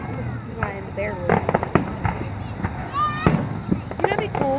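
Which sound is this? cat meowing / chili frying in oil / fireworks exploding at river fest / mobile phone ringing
fireworks exploding at river fest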